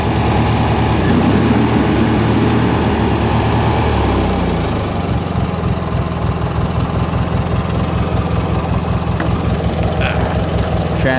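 Small Troy-Bilt lawn tractor engine running close and loud, its steady drone shifting in pitch as it is revved up, continuous throughout with no voices.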